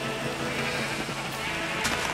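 Sheep bleating in a Minecraft rainbow sheep farm, a dense steady wash of overlapping bleats from many animals close by, continuous and fairly loud with no talk.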